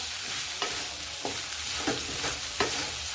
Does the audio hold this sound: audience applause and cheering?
no